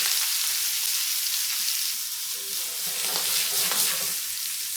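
Rib-eye steak searing presentation side down in a hot, smoking pan, a steady loud sizzle and crackle filling the whole stretch, with brief spatters bursting through near the end.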